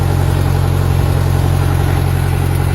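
A Robinson R22 helicopter's air-cooled Lycoming piston engine runs close by with a loud, steady, droning hum and no change in pitch.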